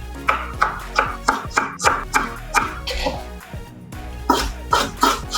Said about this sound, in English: Cut them. So we can julienne.